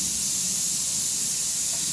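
Steam hisses from a pressure cooker in a home kitchen, a loud, continuous close-up jet of spray that holds steady with no voices.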